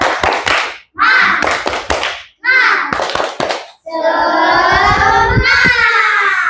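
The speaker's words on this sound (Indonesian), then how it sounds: "Kita lakukan tepuk terlebih dahulu semuanya." A school class performs the tepuk semangat rhythmic clapping routine, with bursts of sharp, close hand claps in quick patterned groups, then children's voices chanting loudly together alongside the claps.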